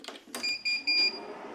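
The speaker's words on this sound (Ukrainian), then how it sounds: "Цікавий звук при включенні. Щось пищить." A high electronic beep sounds three times in quick succession, short even tones, right after a click as a Jasic TIG-200P (W212) TIG welding machine powers on.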